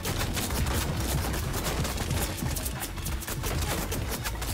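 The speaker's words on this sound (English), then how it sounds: "Winning with only the mammoth pistol." Rapid, dense gunfire from the Mammoth Pistol in the Fortnite battle royale game, a loud, continuous barrage of overlapping shots and clattering impacts across the whole stretch with no talk.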